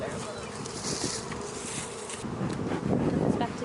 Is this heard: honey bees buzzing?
yes